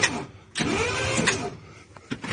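A 1977 Ford F150, parked for twenty years, cranks over in a loud, close burst of rapid starter churning, followed by quieter intermittent clunks and short mechanical bumps.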